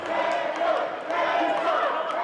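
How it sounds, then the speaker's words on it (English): A wrestling crowd in High Point roars steadily for Dirty Dango, a loud, continuous wash of cheering and shouting with no pauses. "You hear this crowd here in High Point firmly behind Dirty Dango."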